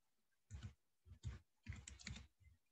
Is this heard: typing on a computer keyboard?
yes